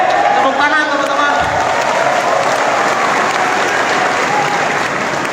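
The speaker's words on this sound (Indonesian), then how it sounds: "Dari tepuk tangan teman-teman." Football supporters and players from the Persib Bandung and Persija fan dialogue applaud in a large room, a dense, loud wash of clapping with a few voices mixed in, sustained throughout.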